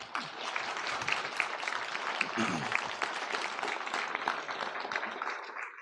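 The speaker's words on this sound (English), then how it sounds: "Give him a round of applause." A seminar audience gives a speaker a round of applause, a steady wash of many hands clapping at moderate distance, fairly quiet, sustained for several seconds with faint voices mixed in.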